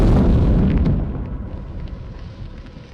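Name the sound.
missile strike explosion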